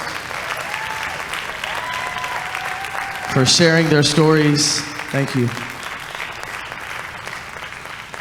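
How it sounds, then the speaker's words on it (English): Audience applause at a church worship gathering swells under a voice offering thanks, then fades as the talk continues. "can y'all give them a round of applause"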